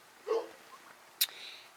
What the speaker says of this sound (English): sorry about the dog, he's excited